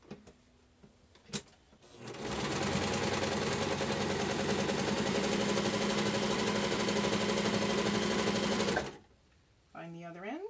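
A sewing machine runs in one long, steady burst of about seven seconds, stitching down elastic on a fabric face mask. It is loud and close, with brief clicks before it starts and a voice right after it stops.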